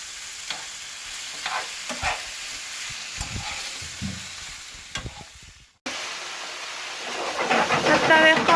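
Seasoned chicken sizzles and fries in a pan while it is stirred, scraping and clattering in bursts over a steady hiss, then a louder, busier sizzle after a short break.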